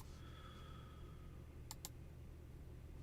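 Two quick computer mouse clicks in close succession, faint against a steady background hum, with no speech over them.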